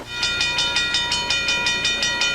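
A train rolls past a railroad crossing, its wheels striking the rail joints in a loud, steady clickety-clack rhythm, with a constant ringing tone running beneath the beats.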